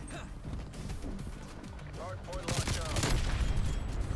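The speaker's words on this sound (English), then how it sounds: "Dude, these pistols are going crazy!" Pistol gunfire in a Call of Duty match, starting as scattered shots under a player's talk and building into a dense, loud burst of rapid overlapping shots near the end.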